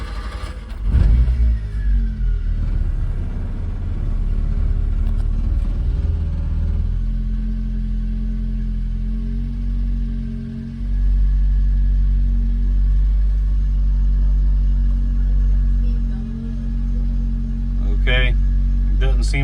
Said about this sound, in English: now we're gonna crank it up, see if the gauge works